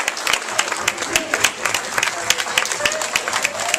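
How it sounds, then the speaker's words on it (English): A crowd at a Super Saturday church event in Raleigh, North Carolina keeps clapping in a dense, sustained round of applause, fairly loud and near, with some voices over the clapping. "y'all can give them all of a hand, a round of applause"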